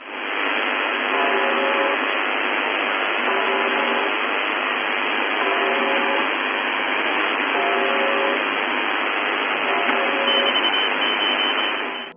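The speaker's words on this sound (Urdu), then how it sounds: "اب جو آپ ٹیون سنیں گے وہ اسی ریڈیو اسٹیشن سے ریکارڈ کی گئی ہے" Steady buzzing drone from the UVB-76 'The Buzzer' shortwave radio station, heard alone through continuous band-limited static with repeating faint tonal pulses roughly every two seconds.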